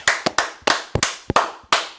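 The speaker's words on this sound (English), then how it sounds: "Clap it up." A few hands clap, about eight sharp close claps in an uneven rhythm with no voices.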